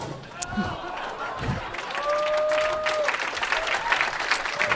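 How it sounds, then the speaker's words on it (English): Spectators at a professional women's bowling stepladder final applaud after the last shot, a steady wash of clapping from the crowd with a commentator talking over it. "a very nice round of applause"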